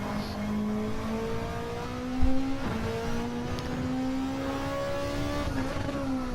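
A race car in a racing video game at Interlagos revs steadily through rising gear pulls, a smooth engine tone climbing in pitch with a brief thump mid-way, alone and moderately loud.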